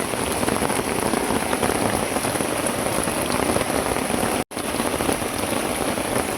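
Steady, dense heavy rainfall patters on a surface, loud and continuous with a brief dropout near the end.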